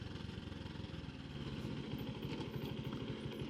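A Janus Halcyon 250 motorcycle idling in neutral after stopping, a steady low, even putter close by, with no talking.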